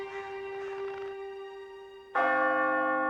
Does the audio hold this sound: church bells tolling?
yes